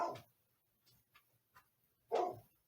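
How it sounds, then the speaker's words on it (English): Two loud barks from dogs indoors, one at the start and another about two seconds later, with faint yips and ticks in the quiet gap between them. "It's my dogs."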